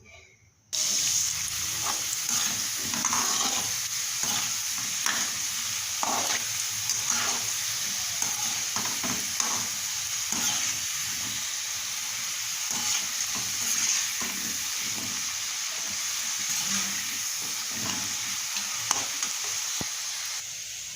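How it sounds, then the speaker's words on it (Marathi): Shaped modak dumplings deep-frying in oil, a dense steady sizzle and bubbling lasting throughout after a brief quiet start, with occasional stirring clinks, close up and no talking. "इथे मस्त असे मोदक केलेले आहेत बघा, आणि आता ते तळून घ्यायचे आहेत"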